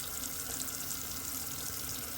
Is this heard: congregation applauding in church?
no